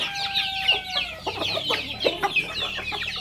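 Native chickens cluck and chatter busily while being fed ground corn in the morning, a dense overlapping flock of short calls close by, with a few longer squawks mixed in.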